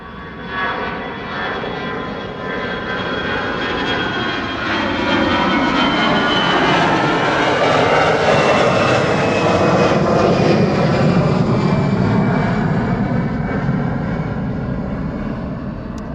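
An Air France jet airliner departs Schiphol, its engine roar building steadily and loud over about sixteen seconds, with a broad rumble and a high whine sweeping downward as it passes close and carries on.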